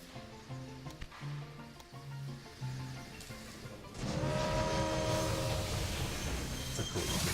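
A Mastodon locomotive in the railway game Railway Empire, with a rhythmic mechanical chugging and tonal notes first, then a louder, denser rolling rumble and clatter as the train runs, continuous and close.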